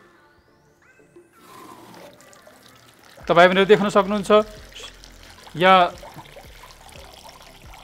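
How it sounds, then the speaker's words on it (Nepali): Water streams out of holes punched in a plastic bottle, a steady soft hiss and trickle running under a person explaining nearby. "सबभन्दा तलको पलबाट पानी बढी प्रेसरमा आइरहेको छ माथिबाट कम प्रेसरमा आइरहेको छ"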